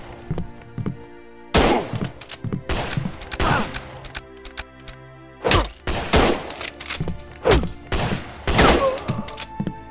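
Gunfire from the video game North & South, sounding as irregular loud shots and thuds spaced across the clip, some in quick clusters, with no talking.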